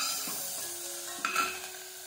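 Vegetable soup being stirred in a pot: quiet, soft swishing with a faint background sizzle and one brief scrape of the spoon against the pot.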